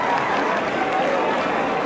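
Concert audience applauding loudly in a hall, dense steady clapping throughout with a broad wash of crowd noise and no pauses.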